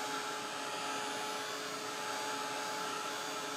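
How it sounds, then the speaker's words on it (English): A plugged-in heat tool blows a steady, even airflow roar, held about six inches from a painted drink lid to dry it; the sound is constant and moderately quiet, with no talk. "the heat tool"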